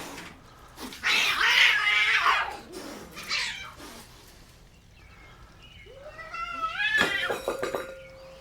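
Two cats fighting at close range: harsh hissing and spitting bursts, then drawn-out, rising and falling yowls and caterwauls that grow louder toward the end.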